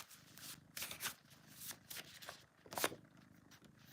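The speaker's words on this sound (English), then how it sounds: "Let me just shuffle these cards." Playing cards being shuffled in several quick riffling bursts, crisp and close, with soft handling noises between them and no talking.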